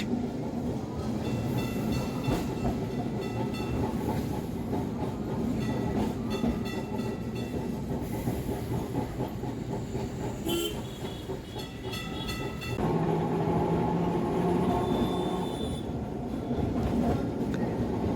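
A Kolkata tram runs between Esplanade and Gariahat, a steady close rumble and clatter of wheels on rails, with a brief sharp tone near the middle and a heavier rumble toward the end.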